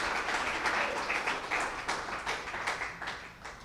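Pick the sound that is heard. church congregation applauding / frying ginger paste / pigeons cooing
church congregation applauding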